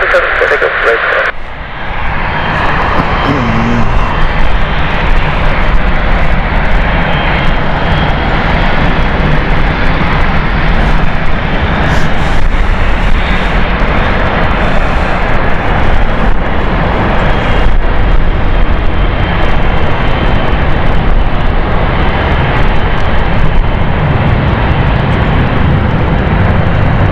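A fixed-wing airplane roars steadily on takeoff from runway 27 at London City airport on a stormy night, a loud continuous engine drone under a radio exchange with the tower.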